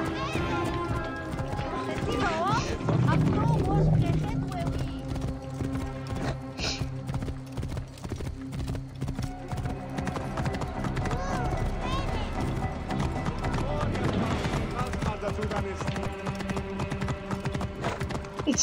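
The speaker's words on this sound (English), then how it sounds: "It's so easy to move around with one horse." Horse hooves clip-clop at a gallop in the Assassin's Creed Origins video game, a quick steady rhythm with an occasional whinny, while someone talks over it.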